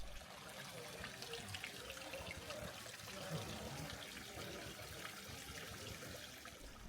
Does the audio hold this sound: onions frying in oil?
no